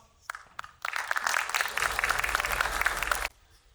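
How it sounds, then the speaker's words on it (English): An audience at a Web3 entrepreneurs' event applauds a presenter coming to the stage. A few isolated claps lead into a full, dense burst of clapping that holds steady for about two and a half seconds, then stops abruptly. "Mo Kwarsi, come on up, big round of applause."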